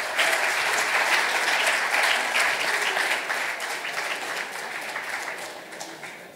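Audience applauding as jury members leave to deliberate at a ceremony, dense steady clapping that holds strong and then gradually thins and fades, with no talking over it.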